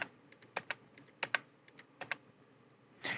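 Quiet computer keyboard and mouse clicks during video editing in DaVinci Resolve, a handful of crisp separate taps in uneven pairs, close and alone with no talk.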